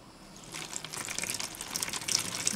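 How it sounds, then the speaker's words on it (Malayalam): Rainwater poured into a container in an outdoor garden makes a splashing, gurgling pour that grows louder and busier as it goes on. "ഇനി നമുക്ക് ഇതിൻ്റെ അകത്തേക്ക് വെള്ളം അങ്ങോ മഴവെള്ളം അങ്ങ് ഒഴിച്ചു കൊടുക്കാം."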